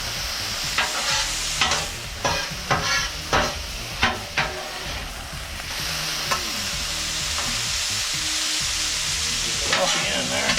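Pieces of meat for gumbo fry hard in a hot pan on high heat, a steady sizzle running throughout while a utensil scrapes and stirs in a burst of sharp strokes near the start, then the frying carries on alone.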